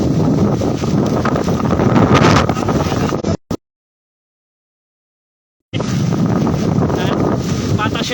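Strong coastal wind during flooding near Hatiya roars and buffets the microphone in a loud continuous rush, cut by a few seconds of total silence before resuming just as strongly.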